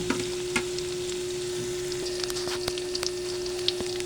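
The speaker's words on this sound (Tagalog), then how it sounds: "Lutuin din natin yung ating luya para lumasa maigi." Ginger fries in a pan for sinampalukang manok, a steady low sizzle with scattered small pops and occasional utensil clicks over a constant hum, no one speaking.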